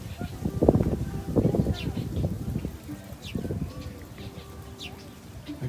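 Pigeons or doves coo in soft, low, repeated calls from close range, partly mixed with people talking nearby.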